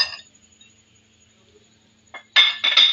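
Mango pieces, a full kilogram, tumble into a dish of pickle spices with whole black cardamom, giving a few loud clattering, clinking bursts near the end after a near-silent stretch.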